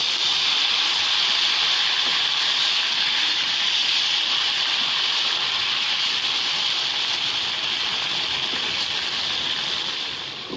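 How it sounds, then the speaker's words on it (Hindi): Water poured into a pan of frying tomato and ginger-garlic paste while cooking Lahori chickpea curry, a steady close rushing hiss that holds for about ten seconds before easing slightly at the end, with no talk. "इसके बाद ये मैंने इसमें थोड़ा सा पानी डाला है"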